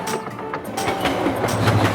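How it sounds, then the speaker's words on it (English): A fast animated train rushes past on its track with a loud continuous rolling rumble and rattling clatter, steady throughout the short stretch, with no speech over it. "The train is zooming past."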